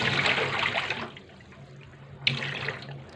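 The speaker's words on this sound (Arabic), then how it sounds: "هطلع الحلبه تمام وادلق الميه" Water from a pot of fenugreek seeds is tipped out into a kitchen sink in two rushing bursts with a short pause between them, close and fairly loud.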